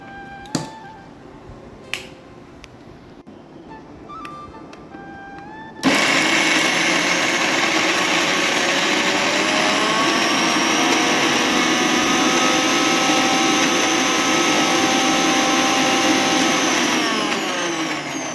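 A kitchen mixer grinder blitzes spices into a paste for a fish curry, starting abruptly after a few small clicks and running loud and steady with a high whine until it winds down at the end.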